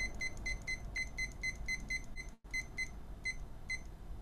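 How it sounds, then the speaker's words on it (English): A new kitchen-style timer gives a run of short, evenly spaced high electronic beeps while being set for 30 seconds, with a brief silent gap midway, then the beeps resume over a steady low background hum. "It's a new timer. Okay, I gotta set again for 30 seconds."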